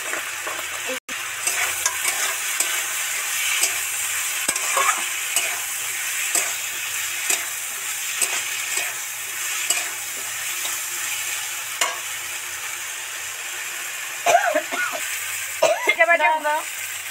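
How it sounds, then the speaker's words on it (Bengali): Spices and vegetables fry in oil in a pan while being stirred, a continuous close sizzle broken by regular scraping strokes of a spatula, with a louder clatter of utensils near the end. "মশলাটা খুব ধরে ধরে একদম মিশিয়ে নেব।"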